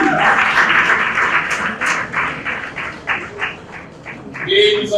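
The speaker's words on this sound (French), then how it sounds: "On applaudit très fort pour" Audience applause for a student of industrial electronics at a school event on girls in science and technical fields, a moderate patter of clapping with a voice speaking over it throughout.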